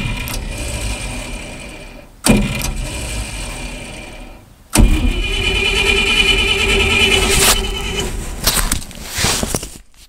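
An old, hot-wired Dodge 318 V8, unstarted for ten years, cranks with a rhythmic whirring starter in short bursts, then catches into a loud rough running roar before cutting out.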